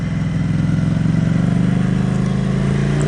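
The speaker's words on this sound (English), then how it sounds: "Cruise down this gravel road." A vehicle cruises down a gravel road, its engine humming steadily and close with a pulsing low rumble throughout, with no voices.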